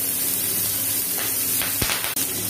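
Urad dal and chana dal fry in hot oil, a steady bright sizzle and hiss throughout, with a couple of short crackles and a spoon scrape close by.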